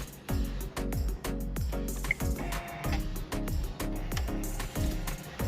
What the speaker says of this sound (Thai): รอแป๊บนึงนะครับ เครื่องมันก็จะสแกนนะครับ สแกนเอาเส้นที่ตรงที่สุดนะครับ